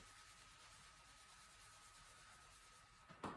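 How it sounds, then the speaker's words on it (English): Hands rub across skin during a self-massage around the belly, a soft, faint continuous friction swish that ends with a couple of slightly louder brushes. "Rubbing."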